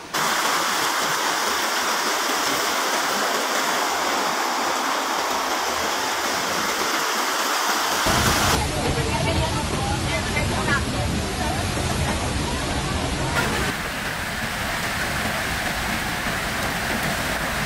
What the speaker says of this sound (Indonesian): Sungai meluap